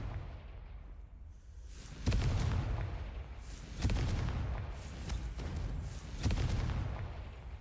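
Repeated spell blasts in a Harry Potter video game boom out in three heavy explosive bursts roughly two seconds apart, each with a rumbling low-end decay over faint background ambience.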